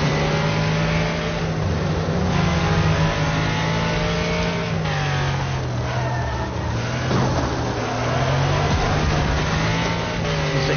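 A race car engine in the video game Wreckfest drones steadily at high revs, with a constant loud whine that shifts in pitch through gear changes and corners, alone without talk.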